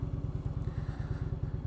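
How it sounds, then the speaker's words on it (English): An Indian Chieftain motorcycle fitted with Samson Stage 1 exhaust pipes rumbles with a deep, rapid, regular thumping pulse, loud and close, heard alone. "I am now test riding a Chieftain with the Stage 1 exhaust pipes."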